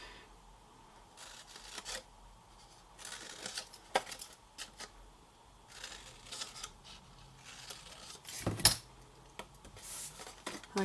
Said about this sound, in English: Oh, or a lot apparently if you slip your scissors.